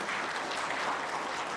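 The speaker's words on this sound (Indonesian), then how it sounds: "tepuk tangan" Applause at a graduation and oath ceremony for young doctors at Gunadarma University's medical faculty, a steady wash of many hands clapping in a hall, moderately loud and continuous.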